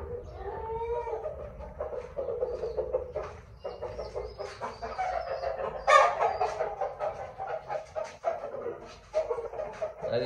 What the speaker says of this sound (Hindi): बाकी मुर्गियाँ वगैरह भी आप देख सकते हैं